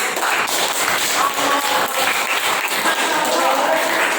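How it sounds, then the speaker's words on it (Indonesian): A group of children claps steadily and continuously for several seconds in a classroom, with faint voices mixed into the applause. "Tepuk tangan buat Yuda."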